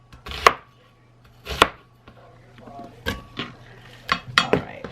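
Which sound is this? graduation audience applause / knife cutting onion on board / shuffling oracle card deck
knife cutting onion on board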